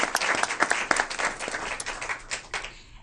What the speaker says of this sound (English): give the Greenwood Elementary School community team one more round of applause